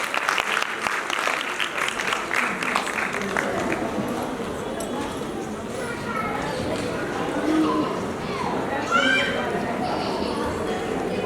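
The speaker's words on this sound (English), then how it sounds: "Please everyone give a big round of applause." An audience at a school's 50th anniversary ceremony claps in a loud, dense burst that tapers over several seconds. A speaker then begins talking over fading claps.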